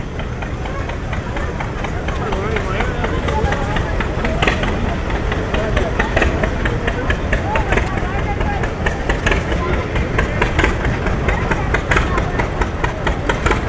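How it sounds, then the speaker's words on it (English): A 1949 Farmall Model C tractor runs in a small-town pioneer days parade, its engine a steady loud chugging rumble amid outdoor crowd noise while an announcer talks over it. "this is 1949 Farmall Model C, owned by Aiden Young from Holding Ford."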